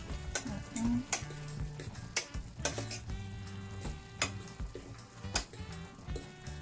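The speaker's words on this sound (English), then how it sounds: "And then I stir it." Cooking vegetables seasoned with black pepper are stirred in a pot, giving repeated scraping and clinking strokes of a utensil over a soft sizzle.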